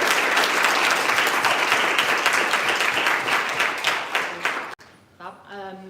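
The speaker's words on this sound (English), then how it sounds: "another big round of applause for the 4 on the stage" An audience at a university sports union presidential hustings claps loudly and steadily for the four candidates on stage, fading near the end as a single voice begins speaking.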